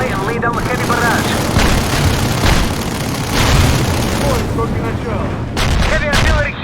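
Artillery barrage in the video game World in Conflict: heavy booming explosions and crackling gunfire roll in repeated waves, loud and close, with radio chatter and spoken voices layered over the blasts.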